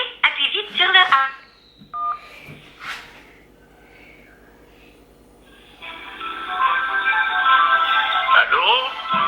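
A phone keypad being pressed to send a tone, with short beeps and a clear dialing-style tone, a longer steady tone later on, and brief voice sounds in between.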